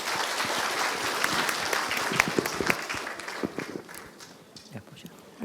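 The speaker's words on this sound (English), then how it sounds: "Give them a warm round of applause." A seminar audience applauds a panel steadily, a dense wash of clapping that holds strong, then gradually thins out toward the end.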